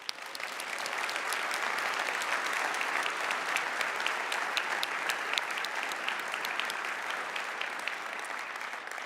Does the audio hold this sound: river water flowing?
no